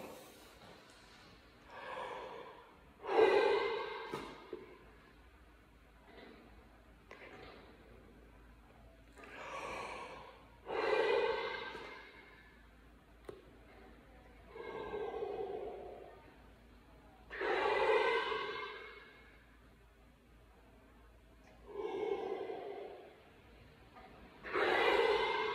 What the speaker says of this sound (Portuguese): gosto também de fazer alguns exercícios de respiração, mais uma vez para ativar a respiração e não só a circulação sanguínea, de forma geral, com recurso ao balão